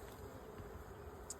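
Honey bees buzz softly around an open hive as a new colony is being started, a faint continuous drone with a few brief louder passes up close.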